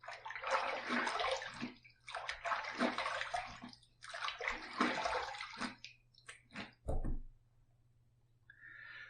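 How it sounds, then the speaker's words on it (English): Water runs from a tap in close, uneven bursts as a razor with a titanium open comb base plate is rinsed, with gaps between the flows and a short clatter near the end. "Let's rinse."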